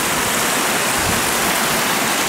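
White water rushing into the intake of a micro hydro system feeding a 4-inch pipe to a Turgo turbine, a steady close broadband roar of turbulent flow with no talk.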